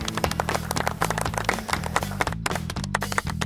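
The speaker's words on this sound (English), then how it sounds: "How about a little golf clap for Chris?" Scattered light applause at a convention, many hands tapping in a dense, uneven patter over a low steady background hum, fairly quiet and continuous.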